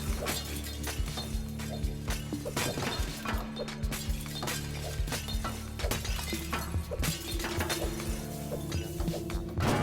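Repeated glass panes shatter and clink as balls are thrown at them in the video game Smash Hit, sharp crashes arriving in quick irregular bursts over a steady droning music bed.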